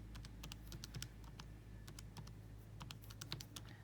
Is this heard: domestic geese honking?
no